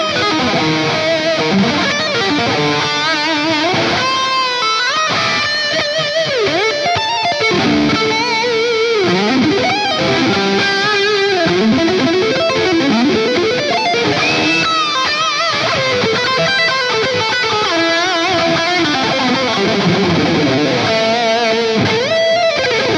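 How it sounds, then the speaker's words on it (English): A distorted lead guitar tone set up in Gig Performer plays a continuous solo line, loud and saturated with bending, sustained notes and fast runs throughout, with no talking. "Right click, duplicate selected Rackspace, and let's call it solo"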